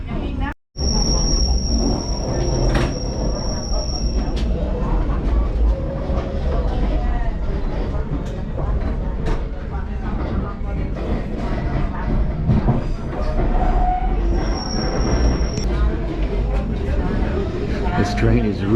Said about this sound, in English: This train is really struggling.